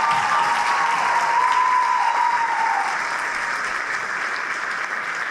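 An audience applauds a glee club at a Black heritage festival, with dense, steady clapping filling the space for several seconds, loud and continuous with a faint whoop, then easing slightly.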